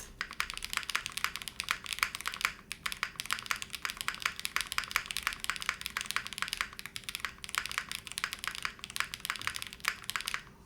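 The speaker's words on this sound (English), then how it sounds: "Let's try putting an Obscura in for now. Oh yeah, that sounds a lot better." Rapid, continuous clacking of typing on a Zoom65 V3 mechanical keyboard fitted with an Obscura spacebar, close up and alone, with a steady rhythm of keystrokes and only brief pauses.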